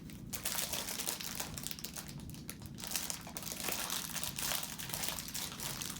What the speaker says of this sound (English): Crinkling occurring off camera right now.